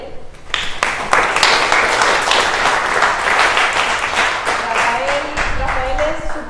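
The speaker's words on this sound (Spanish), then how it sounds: "Vamos a darle un aplauso a Rafael." An audience at a vegetarian nutrition class in Lima claps in a lively round of applause. A voice starts talking over it as the clapping thins toward the end.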